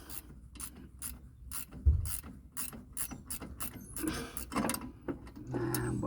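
Ratchet wrench tightening a shock absorber on a 1996 Geo Tracker, a series of close, quick clicking strokes in uneven bursts, followed by clanking and metallic rubbing.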